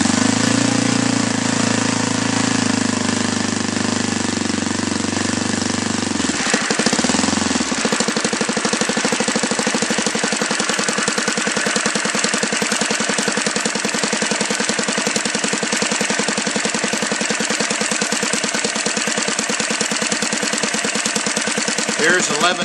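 A Saito 180 four-stroke model engine converted from glow to spark ignition roars loud and close throughout, its pitch shifting early on, then settling into a rapid, steady throb.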